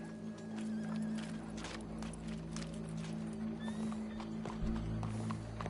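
Steady clip-clop of horse hooves in Red Dead Redemption 2 over a constant low hum and background noise, with a brief whinny-like tone near the end.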